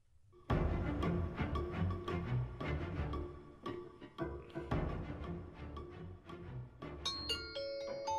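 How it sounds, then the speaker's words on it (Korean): A bright bell chime plays a short ascending ding-dong melody, ringing out loud and clear with sustained tones. "자, 뿌니엘이 여러분 딩동댕동동 나왔습니다"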